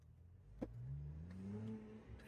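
A car accelerates down a street, its engine note climbing steadily in pitch over a couple of seconds, close and fairly loud, with a brief thump near the start and no talking.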